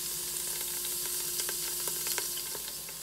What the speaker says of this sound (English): we're gonna add our fresh bone just to get it a little browned and sauteed up